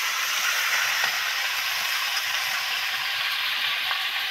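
Potatoes frying in a pan give off a steady, even sizzle that holds close and constant throughout, with a couple of faint clicks and no talking.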